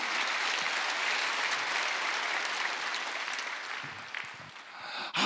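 A church congregation at a Wednesday worship service breaks into applause: a broad wash of clapping, fairly soft and distant, thinning out toward the end.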